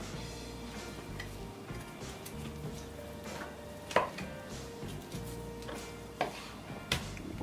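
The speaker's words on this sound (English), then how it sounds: "flex knife over here to debone the chicken" A flexible boning knife cuts and scrapes along raw chicken on a board, close-up, with soft irregular slicing and a few sharper taps against the bone or board.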